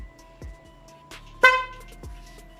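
A Snipe motorcycle's newly installed horn gives one short, loud, brassy honk near the middle, framed by a few soft clicks and faint background hum.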